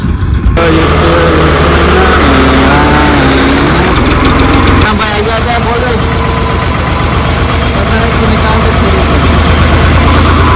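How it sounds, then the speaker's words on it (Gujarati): Loud tractor engine running nearby, a heavy chugging drone with shifting pitch and a rhythmic knocking pulse, with voices faintly underneath. "ચાલો અહીંયા ટ્રેક્ટર આવી ગયું છે આપણું એક"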